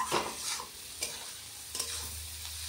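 Meat being sautéed (kosha) in a pan during real home cooking, with a little potato added: a low steady sizzle broken by three scraping stirs near the start, middle and later on, close by with no talk.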